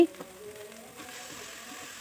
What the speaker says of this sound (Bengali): আদা রসুনের পেস্ট দিয়ে খুব ভালোভাবে নেড়েচেড়ে ভেজে নিচ্ছি